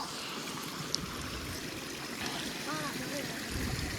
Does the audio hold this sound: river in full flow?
yes